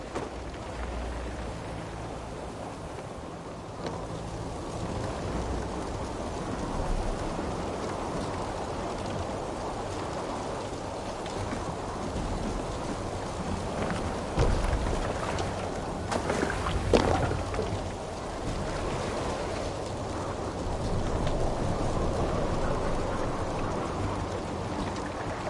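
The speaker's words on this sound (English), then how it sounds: "Towards the eye of the storm!" Heavy rain and storm noise at sea in a PS4 video game, a steady broadband wash of rainfall and rushing water running throughout with swells in intensity, no voices.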